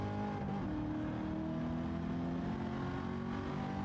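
A 1989 Corvette C4 ZR1 engine revs hard in a racing video game, its steady droning whine climbing in pitch through the gears, loud and continuous with no voices over it.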